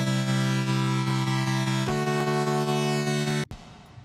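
An Ableton stock synth run through free granular synthesis, then reverb, mid-side OTT compression and EQ, holds a thick sustained harmonic chord that shifts once midway and cuts off abruptly near the end, leaving a brief decaying tail.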